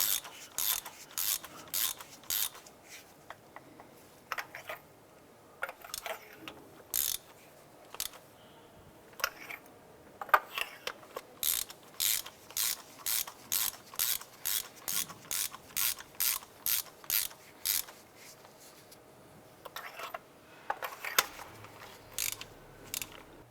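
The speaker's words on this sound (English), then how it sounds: "We're just going to go ahead and snug these down." A ratchet snugs down spark plugs on a 2001–2005 Honda Civic engine. Close, rapid clicking bursts repeat in steady strokes, with short pauses between the sets, and no voices are heard.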